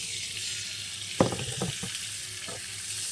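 Fried potatoes lifted with a slotted spoon and dropped into hot mustard-pickle oil, with a steady sizzle throughout and a few sharp splashes and crackles as the pieces land, close and fairly loud.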